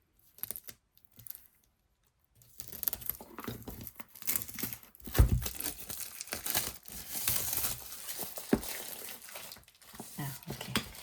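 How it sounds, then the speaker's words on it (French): Colored pencil box packaging being opened by hand, with crinkling and tearing of wrapping that comes in irregular bursts, close and moderately loud after a quiet start. "On va essayer d'ouvrir ça proprement."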